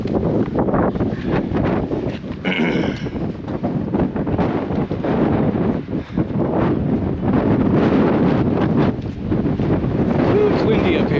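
Strong wind buffets the microphone on a coastal clifftop path above the beaches of Lagos, Portugal, as a loud, continuous roar with gusty surges, and a person speaks briefly under it.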